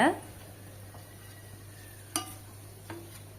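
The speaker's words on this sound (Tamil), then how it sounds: "அதெல்லாம் பேனில் சேர்த்துட்டு இப்போ நல்லா மிக்ஸ் ஆகுற மாதிரி கலந்து கொடுங்க" Lemon sevai being stirred in a pan with a spoon, a soft, quiet scraping with a couple of faint clinks against the pan, no voices.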